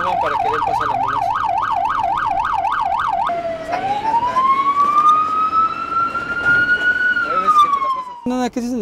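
A loud ambulance siren in Mexico City traffic wails in fast rising-and-falling cycles, then shifts into a long slow rising and falling tone, with traffic noise and a brief horn-like blast at the end.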